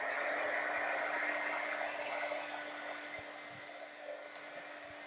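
A hair dryer runs steadily and close, blowing to dry wet paint on a mixed media background, a loud continuous whir with a steady hum that eases slightly in level toward the end.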